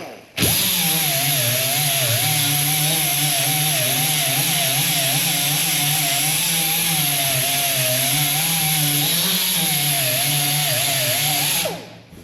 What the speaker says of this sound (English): We just want to take down the weld.